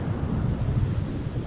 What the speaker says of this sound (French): Quand il y a la pluie, le vent, je trouve ça apaisant.